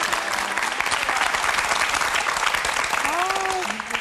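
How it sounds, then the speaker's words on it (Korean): A TV studio audience claps steadily in dense, loud applause, with a voice briefly rising over it near the end. "박수 한번 해주세요."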